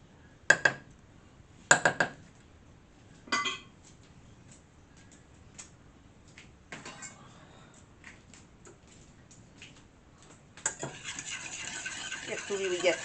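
A whisk working lumps out of a sauce for lasagna: a few sharp metallic clinks against the bowl early on, then scattered light taps and scraping, building into brisk continuous whisking near the end, close up.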